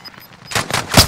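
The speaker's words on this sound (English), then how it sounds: "Sustaining fire here." Gunfire in a video game erupts after a quiet start: a few loud, rapid bursts close together, fading only briefly between shots.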